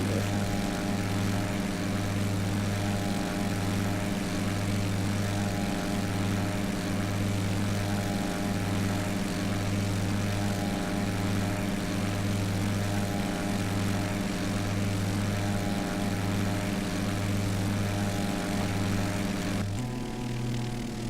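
A propeller airplane engine in the X-Plane flight simulator drones steadily at constant power with a pulsing low hum, then shifts abruptly in tone near the end.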